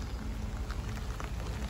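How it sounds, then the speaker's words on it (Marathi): Heavy rain pouring hard outdoors, a dense continuous hiss and patter that stays loud and even from start to finish, with no voices. "आता आम्ही निघालो नाही की पाऊस आला, तर पण भरपूर जोरात पाऊस बघू शकता तुम्ही"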